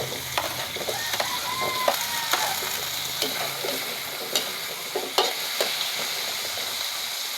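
Carrots and potatoes stirred and fried with milkfish in a pan, bright sizzling broken by sharp scraping clicks and knocks of a utensil against metal at an irregular pace, close and fairly loud.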